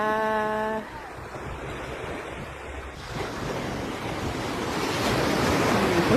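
Sea waves rolling in at a crowded beach, a broad rushing surf roar mixed with wind buffeting the microphone, quieter early on and building louder toward the end.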